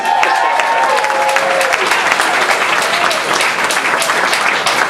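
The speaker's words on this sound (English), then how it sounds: "Give them one more round of applause." Dense, steady applause from an audience at a Battle of the Bands music contest, loud and sustained for several seconds with a few cheers mixed in.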